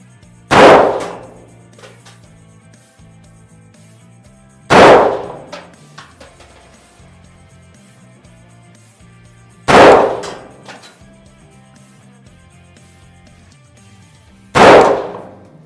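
A Vepr-1V rifle chambered in .223 Remington fires four loud, sharp shots at a shooting range, evenly spaced about five seconds apart, each with a brief ringing decay and quiet between them.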